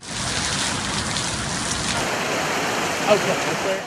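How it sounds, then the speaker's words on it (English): Steady, dense summer rainfall in West Virginia hissing continuously, loud and close, with a faint thump near the end. "It's a familiar sound in the summer. Rain and thunderstorms are common in West Virginia"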